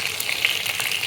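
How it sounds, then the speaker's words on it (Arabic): Beef and qawarma onions sizzling together in a pan, a steady, close frying hiss with small crackles throughout and no voices. "وأول ما اللحمة تاخد لون هننزل عليها البصل الأورمة وهنبتدي نشوحهم مع بعض"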